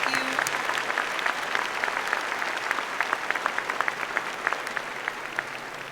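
A commencement crowd at NKU claps for faculty members: sustained, even applause of many hands with crisp individual claps standing out, moderately loud and continuous, with a faint murmur of the crowd underneath.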